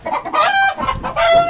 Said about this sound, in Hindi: असल में ये ऊपर छत पे काम हो रहा है ना, तो ये इससे मुर्गे शोर मचा रहे हैं।